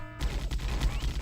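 A bolter fires in the Fire Warrior game, giving rapid, booming bursts of heavy gunfire in quick succession. The shots are close and fairly loud, and no speech is heard over them.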